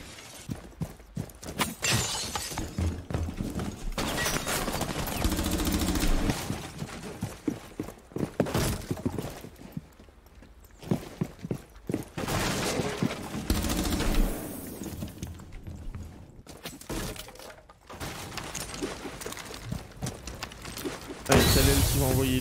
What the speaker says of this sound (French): seulement des coups de feu